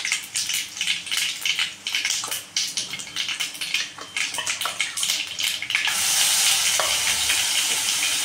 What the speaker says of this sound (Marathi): हा कढीचा मसाला आपण टाकणार आहोत. छान परतून घ्यायचा